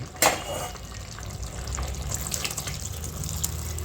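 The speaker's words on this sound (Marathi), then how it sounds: "आता याच्यामध्ये आपल्याला आणखीन पाणी टाकायचं आहे" Water pours steadily into a pot, a broad gushing wash that starts with a sharp splash and runs on without a break; no voices.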